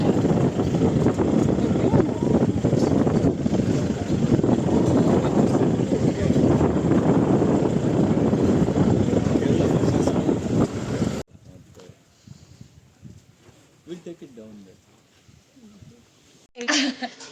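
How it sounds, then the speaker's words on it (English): Loud, steady wind buffets the microphone for about eleven seconds during a bumpy open-vehicle ride through Chhattisgarh jungle, then drops to quiet with faint knocks and rustles. "We had a beautiful, bumpy and windy ride on this open vehicle to our first campsite."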